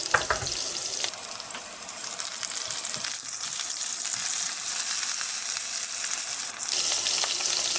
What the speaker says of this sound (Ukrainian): І поки сало буде підсмажуватись, ми поріжемо кубиками цибулю.